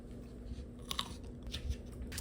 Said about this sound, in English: These grapes, let's give it a crunch test.